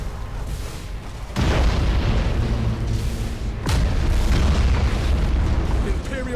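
Spaceship exploding in the space strategy game Battlefleet Gothic Armada 2: two loud, deep booming blasts with a long rumbling tail, heavy and close, with voices talking over the noise.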